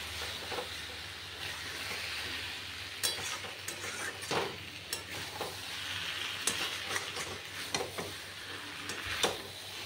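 Malabar spinach (pui shak) fries in a pan as it is stirred, with a continuous close sizzle broken by frequent scraping and clattering strokes of the spoon.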